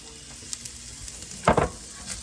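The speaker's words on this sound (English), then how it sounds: "I've drained the ground beef, and we're going to add that back in." Drained ground beef tipped back into a simmering pan of sauce gives a brief soft sizzle and splatter over low steady bubbling, close by and without talk.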